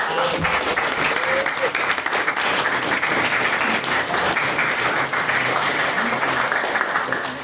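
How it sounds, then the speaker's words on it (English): Steady, dense audience applause for debate teams fills the room from start to finish, many hands clapping at a constant loud level with some voices and cheers mixed in. "if we could please extend to them a very hearty round of applause."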